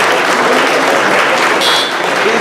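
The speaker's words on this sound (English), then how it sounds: "could you at this time give our timekeeper, Mr. Tommy, a big round of applause?" A church audience gives a sustained, loud round of applause, dense even clapping filling the whole moment with no break.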